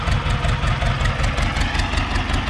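HMT Yuva 2005 tractor with its front end lifted, diesel engine running at a steady idle with a low, even throbbing chug, loud and close, with no talking.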